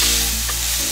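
Steady, loud sizzling of turkey breast tenderloin searing in a hot pan, a constant crackling hiss with a low hum underneath, no voices.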